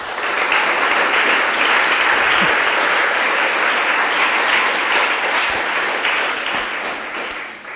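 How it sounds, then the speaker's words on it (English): Sustained audience applause at a feminist conference in Brussels, a dense even clatter of many hands filling the hall at steady loudness for about eight seconds, tapering slightly near the end. "And I think they deserve an applause."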